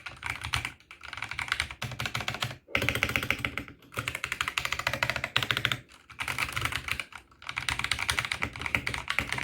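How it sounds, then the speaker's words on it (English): Rapid typing on a mechanical keyboard with brown switches in steady bursts with brief pauses between them, close and clear, the keys clacking with a slightly muted tone. "It's not the best sounding keyboard out there,"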